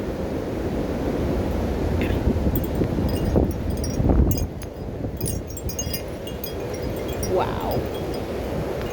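Strong wind blowing outdoors, gusting hard enough to threaten a tree, with a steady, loud roar and rumble throughout and a person briefly exclaiming over it.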